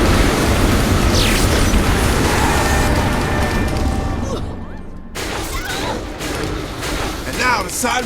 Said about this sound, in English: Everything's better with explosions.